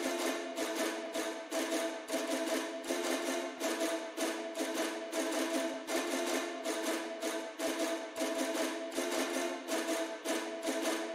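Sampled string library in Kontakt playing a repeating three-chord pattern with reverb switched off, steady rhythmic bowed strokes that hold constant and play alone at a soft level.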